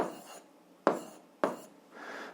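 Pen or chalk strokes scratch out an algebra equation system, a few short close rubbing bursts separated by brief pauses.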